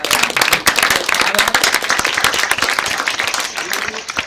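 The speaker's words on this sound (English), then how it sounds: "Let's just give a round of applause" An audience at an academic panel applauds, dense overlapping hand claps rising quickly and holding steady before tapering slightly near the end.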